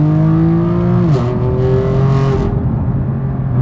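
A 2016 BMW M4 GTS engine in sport mode holds a loud, close drone, then drops in pitch as the throttle shifts and settles into a steady tone before fading.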